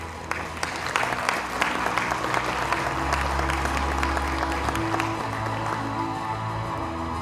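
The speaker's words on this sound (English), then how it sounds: "Give us a big round of applause." A banquet hall audience at a community awards gala gives sustained applause, a dense clatter of many hands with sharp individual claps standing out, while a low music tone hums underneath.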